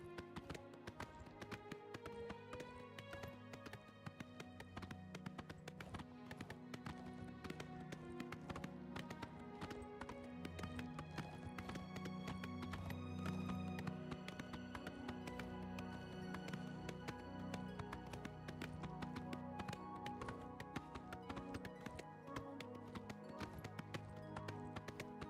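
Horse hooves clip-clop steadily in Oblivion Remastered, a constant galloping patter sitting beneath loud, dense fantasy game music that plays throughout.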